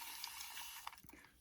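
Faint, steady hiss of water misted from a spray bottle onto type 4 hair while mini braids are taken down, close and brief with no speech.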